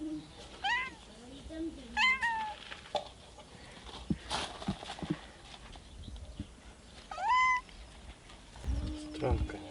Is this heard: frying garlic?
no